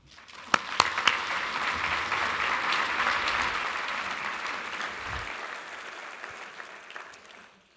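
An audience at a regional planning event in Columbus breaks into warm applause for a speaker taking the stage, a steady wash of clapping with a few sharp claps early on that slowly tapers away.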